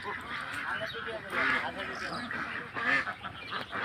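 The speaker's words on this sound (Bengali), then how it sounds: "দেখেন কি সুন্দর সুন্দর হাঁস" White Belgian ducks on a duck farm quack and honk in a steady, busy chorus nearby, with a person talking over the flock.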